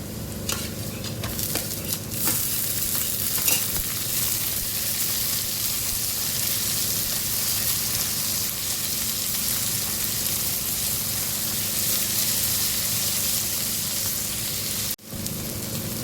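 Onions fry in a pan for a Konkani vegetable dish with tomatoes going in, giving a loud, continuous close-up sizzle and crackle throughout, with no speech.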